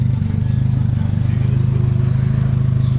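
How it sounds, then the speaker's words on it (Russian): A Nissan Silvia S14 exhaust rumbles at idle nearby, a steady deep burble with an even low pulse that holds without a rev. "Во, вот это выхлоп красивый."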